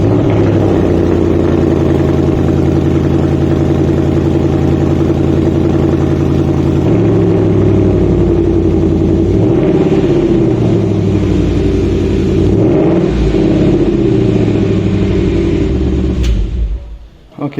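A 2021 Ford Mustang Mach 1 V8 with 4.5-inch exhaust tips rumbles loud and close, idling then revving repeatedly through the exhaust with rising and falling pitch before cutting off near the end.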